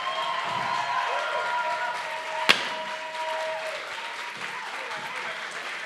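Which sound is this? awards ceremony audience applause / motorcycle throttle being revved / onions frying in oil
awards ceremony audience applause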